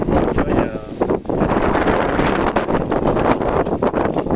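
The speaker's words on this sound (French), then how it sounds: "ça commence à souffler" Strong wind from Storm Fabien buffets the microphone in a continuous loud roar with gusty surges, steady throughout without pause.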